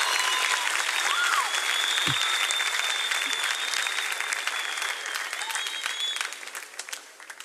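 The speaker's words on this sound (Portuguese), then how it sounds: "Dá uma salva de palmas aí para Jesus." Moderate applause from a church congregation during a sermon, steady clapping spread across a large room for several seconds, then gradually thinning out, with faint voices or cheers mixed in.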